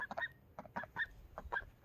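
A male Khaki Campbell duck's short, squeaky whistling calls, five or six bursts in a quick uneven series, fairly faint and close with no talking.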